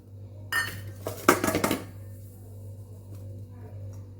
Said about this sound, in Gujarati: બાજરાના લોટને બાઉલમાં ચાળી લેશું